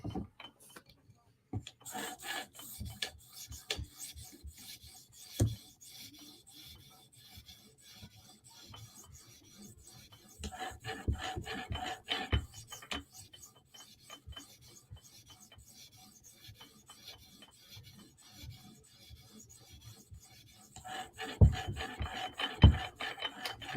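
A Para 3 and a Benchmade 940 knife are sharpened on a TSProf Kadet guided sharpener stone, rhythmic rasping strokes coming in bursts close up with pauses between passes and no voices.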